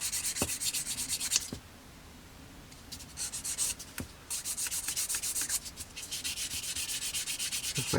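Sanding sticks rubbing plastic model kit attachment stubs on a 1/48 scale Tamiya Beaufighter, close and quiet rapid back-and-forth scraping strokes in several bursts with short pauses between.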